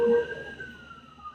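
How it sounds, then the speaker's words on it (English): A fire truck siren heard faintly at a distance, a thin sustained wailing tone that slowly glides downward over a little more than a second, with low background murmur. "You hear that? That's a fire truck."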